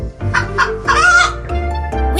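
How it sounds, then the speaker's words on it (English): A hen clucks in a few loud, close bursts, one longer and drawn out, over soft background music. "Yes, it is a hen."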